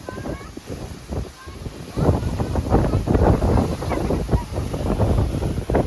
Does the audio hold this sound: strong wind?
yes